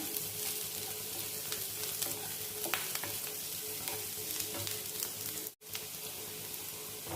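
Bitter gourd pieces fry in hot oil in a pan, a continuous, close crackling sizzle with light stirring, briefly cutting out for a moment near the end before resuming.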